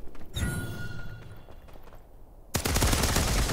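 Rapid automatic gunfire from the Farlight 84 shooter game: bursts of fast, loud shots in a dense stream, a brief lull with a faint mechanical whine, then a heavy renewed volley to the end.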